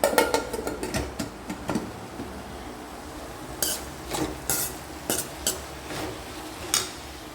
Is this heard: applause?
no